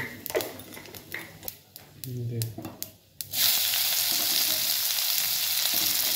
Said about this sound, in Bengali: পেঁয়াজ, চপ করা পেঁয়াজ, এরপর দেওয়া হচ্ছে রসুন, এগুলো একটু ভাজা হবে।